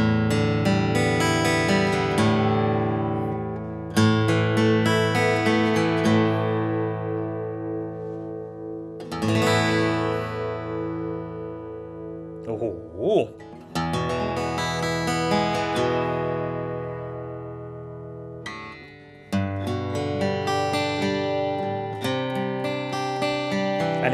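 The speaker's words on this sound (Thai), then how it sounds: "ถึงช่วงซาวด์เช็คกันบ้างนะครับว่าออลโซลิดมอฮอกกานีนะครับของเจ้ าไทม่า D30M" A Tyma D-30M 41-inch all-solid-mahogany acoustic guitar recorded live with one microphone about 50 cm away: strummed chords ring out full and loud, each left to sustain and decay before the next strum, with no talking.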